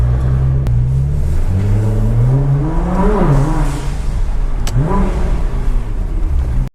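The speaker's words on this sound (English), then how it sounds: "The modifications that are done in this car make the car really loud" A modified Nissan GT-R engine revs loudly up close, rising and falling in two throaty surges over a rumbling idle before cutting off abruptly at the end.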